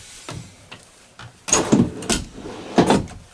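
Drawers in a 2017 Forest River Charleston 430 BH RV opened and shut in quick succession, giving a series of close, loud wooden slides and knocking thumps in an irregular rhythm.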